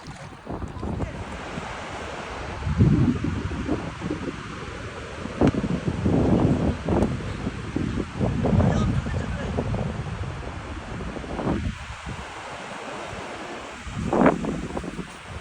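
Atlantic surf rolls in at Ogunquit beach in Maine, steady wash of breaking waves with gusty wind buffeting the microphone, several swells rising and falling over fifteen seconds, with faint voices at times.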